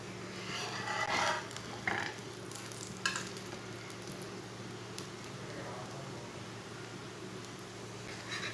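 Sugar-filled paratha, made without kneading dough, sizzling steadily on a hot pan as it is flipped and cooked, with a few soft scraping and flipping knocks over a continuous close frying hiss.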